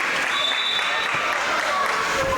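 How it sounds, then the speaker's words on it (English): Teammates on the bench at a Highland volleyball tournament match cheer and clap, a steady loud wash of applause and crowd noise with no pauses. "cheering from the teammates on the bench for the Scotties right now"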